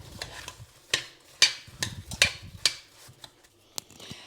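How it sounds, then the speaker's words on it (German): Strawberries with gelling sugar stirred in a pot, giving irregular scraping knocks and clicks close by, spaced unevenly over a quiet background. "Erdbeeren rein, Gelierzucker dazu, umrühren und"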